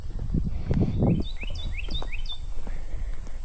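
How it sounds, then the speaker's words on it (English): Faint high chirps from a bird in a forest repeat several times in quick succession over quiet outdoor ambience, after some soft rustling and footsteps nearby. "besides the chirps of the birds, the silence"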